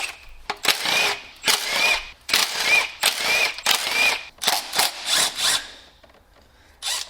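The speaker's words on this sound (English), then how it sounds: "I'm going to remove all these bolts for this little oil pan here" A ratchet backs out 10 mm bolts from the oil pan of a Nissan CVT, sounding as repeated bursts of quick, rasping clicks with short pauses between them, close and fairly loud.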